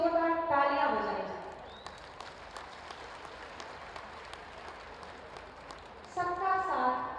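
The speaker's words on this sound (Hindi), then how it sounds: "पूरी ऊर्जा के साथ माननीय के लिए जोरदार तालियां बजाएं।" A crowd in Bahraich applauds the Chief Minister with several seconds of steady, moderately distant clapping, framed by someone speaking through a public address system before and after.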